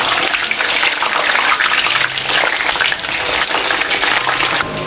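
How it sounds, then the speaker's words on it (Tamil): Brinjal strips deep-frying in hot oil for a pickle, giving a loud, continuous hissing sizzle with crackling bursts, steady throughout with no talking. "இப்போ இதை நாங்கள் பொரிச்செடுக்கணும்."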